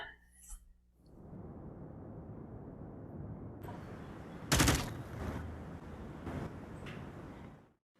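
Gunfire as a suspect is gunned down in a tactical game scenario, a sustained rattle of shots with a sharp, loud burst partway through followed by a few further cracks.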